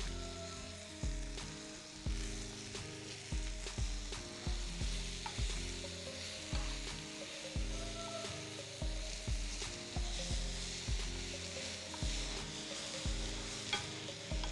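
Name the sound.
capsicum frying in a pan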